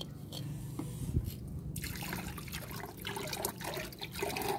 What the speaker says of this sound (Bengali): টবটা একটু ধুয়ে নিতে হবে।